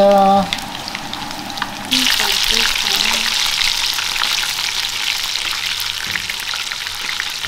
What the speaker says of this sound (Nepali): chicken wings बन्दैछ chicken wing fry हुँदैछ